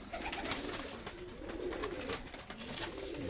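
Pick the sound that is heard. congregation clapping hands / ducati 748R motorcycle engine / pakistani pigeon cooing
pakistani pigeon cooing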